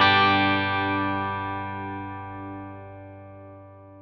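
Electric guitar through a Klon KTR overdrive pedal used lightly as a preamp, a single strummed chord ringing out close and slowly decaying over about four seconds.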